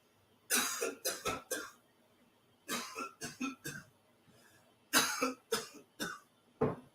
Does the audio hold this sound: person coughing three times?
yes